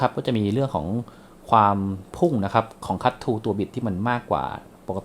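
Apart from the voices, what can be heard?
No distinct noise like a dog, phone or traffic.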